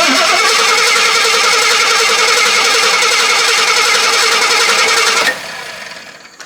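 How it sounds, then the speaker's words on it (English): A vintage 52-year-old Jeep Wagoneer with a carburetor cranks, catches and runs with a loud, steady engine drone close by for about five seconds, then cuts to a much quieter fading tail. "It actually runs decent. We ain't even cleaned the carburetor."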